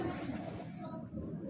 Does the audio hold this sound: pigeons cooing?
yes